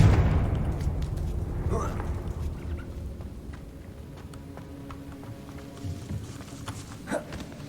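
Confringo fire spell explosions in the video game Hogwarts Legacy: a couple of short booming bursts among game noise, with someone talking over them.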